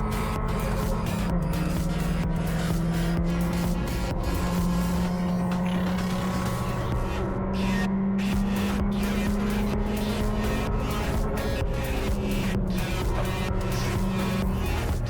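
Race car engine at a Cadwell Park track day, steady droning note under a constant roar of wind and road noise as the driver lifts fully off the throttle, with the pitch holding fairly level throughout.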